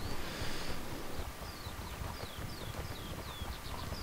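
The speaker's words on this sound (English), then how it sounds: "What is this donkey doing here?" A donkey's hooves clip-clop in a steady walking rhythm in the online game Mortal Online, soft and moderately close, under faint ambient wind.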